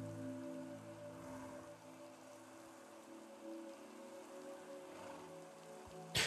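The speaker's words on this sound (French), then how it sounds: "Si vous voulez que je coupe la pluie, je peux couper la pluie" Steady rain falls in a video game, a soft, even patter and hiss that runs continuously at low volume without any voices, ending with a short sharp burst.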